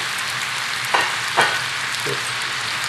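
Roughly sliced onions sizzle steadily in a pan as they reduce for a Brazilian feijoada beef stew, a constant close hiss broken by a couple of soft stirring clicks.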